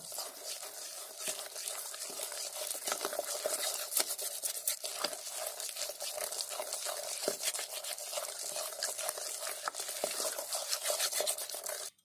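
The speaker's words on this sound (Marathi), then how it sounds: "आता हे चांगलं आहे ना फेटून घ्यायचं" Eggless vanilla sponge cake batter is whisked in a bowl, a steady close wet swishing and rapid rhythmic tapping that runs unbroken and fairly quiet throughout.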